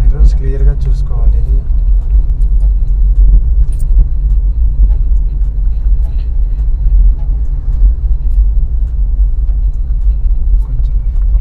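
A car in second gear during a driving lesson rumbles steadily from inside the cabin, a loud low engine and road drone throughout, with an instructor and learner talking over it.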